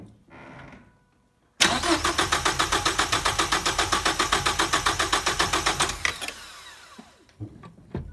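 A 1989 Ford Probe GT with a fuel pump that isn't running cranks on its starter for about four and a half seconds in a fast, steady, rhythmic chug, loud and close, then stops without catching.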